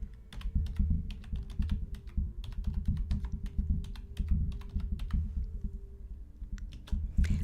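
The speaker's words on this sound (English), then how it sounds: "So I'll type this into the chat too." Rapid typing on a computer keyboard, dense irregular clicks and key taps in bursts with brief pauses, close and moderately quiet over a low steady hum, with no talking.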